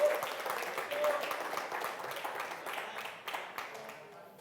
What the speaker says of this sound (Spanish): Dele un aplauso poderoso al Señor